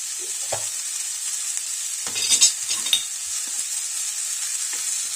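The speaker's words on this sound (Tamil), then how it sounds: "இதோட கூட கொஞ்சம் இஞ்சி பூண்டு போடணும்." Ginger and garlic sizzle in a hot pan with garam masala, mint and coriander for a vegetable gravy, a steady bright hiss with a few stirring scrapes and clinks, close and without talk.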